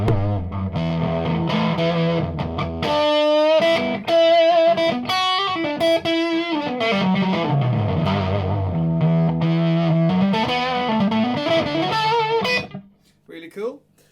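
Electric guitar played through a handmade effects pedal stacked with distortion pedals, sustained gritty notes and chords ringing loud and close, then cut off abruptly near the end with a brief plucked tail.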